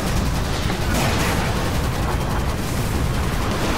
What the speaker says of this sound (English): let's go for some artillery actually